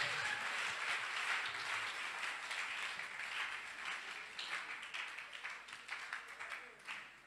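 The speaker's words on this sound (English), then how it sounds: "So, my young Kansa Munchero, you can clap those hands." A church congregation claps hands during a preacher's sermon, a fairly faint, rapid patter of many hands that gradually thins out, with speaking voices underneath.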